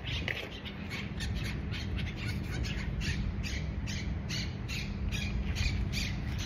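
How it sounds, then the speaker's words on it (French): A bird squawks repeatedly in short harsh bursts outdoors, fairly near and loud over steady background noise, with no one talking. "C'est quoi ce cri d'oiseau?"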